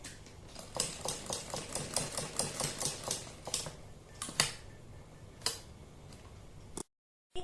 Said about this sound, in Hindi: बिल्कुल गले के किनारे किनारे पर चारों तरफ हम सिलाई लगाते चले जाएंगे इस तरह से